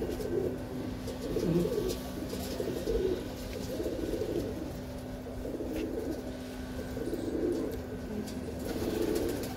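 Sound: pigeons cooing

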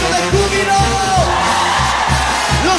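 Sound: women in church congregation shouting for joy

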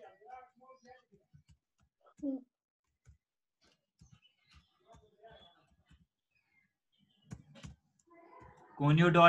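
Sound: typing code on a computer keyboard

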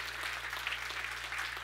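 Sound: church congregation hand clapping

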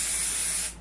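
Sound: spray adhesive being sprayed from a can

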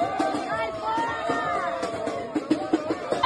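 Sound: crowd booing at a protest

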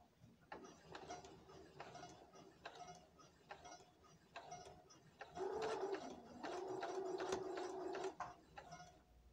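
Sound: sewing machine doing a back and forth stitch

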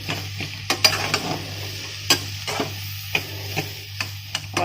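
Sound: pressing and stirring soft boiled potatoes in a pan

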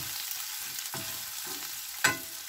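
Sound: onions and carrots frying in pan

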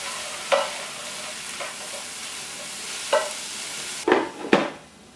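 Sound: stirring mushrooms cooking in a pan

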